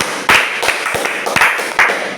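A classroom of students claps in short, uneven bursts, several quick rounds of applause close by with no talking.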